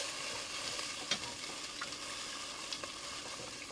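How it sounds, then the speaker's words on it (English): Short ribs pan deglazed with bone broth, with a steady soft sizzle and scraping strokes across the bottom, a few sharper scrapes poking out, heard close with no talking. "You want to deglaze with that bone broth."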